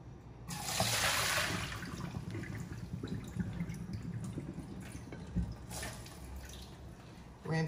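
Water pours and splashes into a bowl while raw Irish sea moss is rinsed, a steady close running-water wash that starts strongly, then continues with softer sloshing and occasional splashes.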